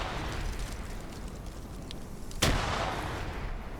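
A frag grenade detonating in a military combat game, one sudden loud blast punching through a steady background rumble of distant gunfire, with faint scattered pops before it and no voices.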